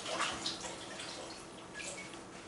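A saxophone part is rinsed in a basin of rinse water, giving a soft, continuous splashing and trickling close by with a few brighter drips.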